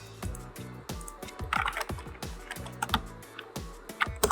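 Python code is typed on a computer keyboard in quick, uneven runs of sharp, close key clicks, with no voice over them.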